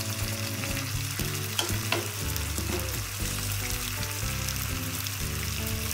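Green chillies, coriander, mint and curry leaves sautéing in hot oil, a dense, loud crackling sizzle that runs the whole time with occasional stirring scrapes, over a steady low hum; no talk.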